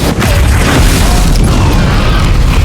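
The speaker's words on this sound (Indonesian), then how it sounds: "ia tersambar ledakan api akibat gas metana yang terperangkap di dalam dinding" A heavy, rumbling methane gas explosion booms and roars continuously, a dense wall of low explosive noise with no pauses.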